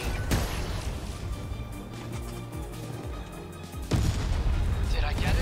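A huge missile strike explodes in the 13 Sentinels: Aegis Rim video game, a loud booming blast that hits near the start and another surge near the end over dense rumbling game noise.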